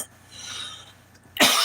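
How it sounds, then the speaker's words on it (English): A single harsh cough bursts out abruptly near the end, close and loud, after a stretch of quiet room hum. "harsh cough, harsh cough"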